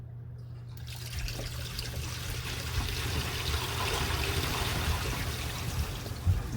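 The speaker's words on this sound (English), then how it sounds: "You can flush it." A toilet flushing after a low flange was repaired with an Oatey Set-Rite extension kit: a steady rushing, gurgling wash of water that swells in just after the start and runs loud and continuous to the end.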